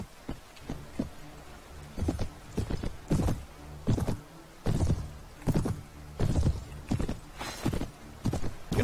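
Horse hooves clip-clop in Mount & Blade: Warband, a rhythmic, fairly close series of hoofbeats at a steady trotting pace, heard alone without talking.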